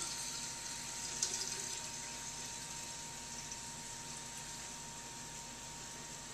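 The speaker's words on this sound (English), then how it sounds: "all I'm going to do is put cool water." Cool water pours into a mug of French lentils as a faint, steady trickling stream that fills gradually without break, heard from close by with no talk.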